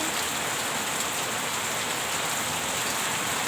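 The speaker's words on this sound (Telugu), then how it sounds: "ఈరోజు ఇలా మబ్బు పట్టి సడన్గా వర్షం పడుతుంది" Sudden steady rain falls straight down without wind, a soft even hiss of drops on surfaces at low level, continuous and unbroken, with no voices.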